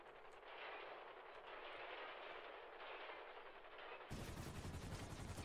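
Rapid gunfire in GTA V on a NoPixel roleplay server, sustained bursts of shots ringing at a distance, then a sudden loud, close, booming volley breaking in near the end.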